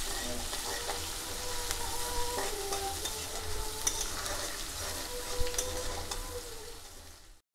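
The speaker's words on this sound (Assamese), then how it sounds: "ৰঙচুৱা হোৱালৈকে মই ভাজিম।" Onions, green chili and ginger-garlic paste sizzle steadily in a pan while being fried until browned, with frequent light clinks and scrapes of stirring running through the continuous frying hiss.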